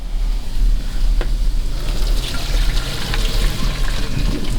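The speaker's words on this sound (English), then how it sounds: "I will drain most of the water out." Water poured from a pot of cooked ramen noodles as it drains, a steady continuous splashing rush held at an even level close by, with no one talking.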